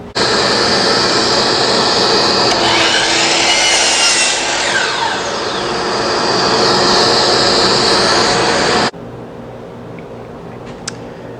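A hand saw cuts through the end of a 13-inch board of recycled wood for a tool tray, a loud, steady rasping of strokes that runs for about nine seconds and then stops abruptly, leaving quiet room tone.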